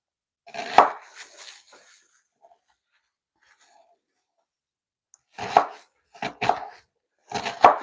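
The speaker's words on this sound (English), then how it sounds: "We are going to roughly chop it." Knife chopping a raw onion roughly on a board, heard as one early burst of cuts, then a quiet pause, then three close, loud bursts of chopping.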